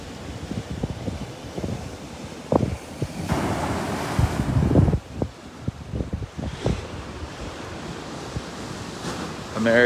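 Surf of the East China Sea washes against the sea wall at Chatan, a continuous rushing wash with periodic swells and heavy wind buffeting the microphone.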